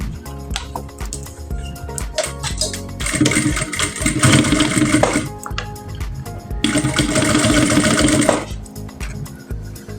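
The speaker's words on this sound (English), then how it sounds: "So I'm just going to sew this other side." A sewing machine stitches bust caging channels on a corset, with two long steady runs of rapid whirring separated by a pause, close and loud, plus small clicks before and between.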